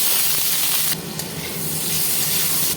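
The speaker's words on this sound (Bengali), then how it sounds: "আলুটা একটু ভাজা ভাজা করে নেবো" Potatoes fry in hot mustard oil with turmeric, giving a steady, close sizzling hiss that jumps to a louder, brighter burst about a third of the way through and stays loud to the end.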